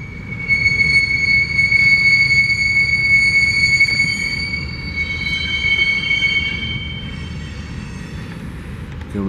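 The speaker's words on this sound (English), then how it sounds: "Here comes the tank car." A railroad tank car rolls through the BNSF hump yard in Pasco, Washington, its wheels giving a loud, sustained high-pitched squeal over a heavy rolling rumble that eases slightly near the end.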